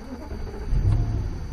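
A V8 car engine starts from inside the cabin, a low rumble that swells and then settles into a steady idle, close and fairly loud.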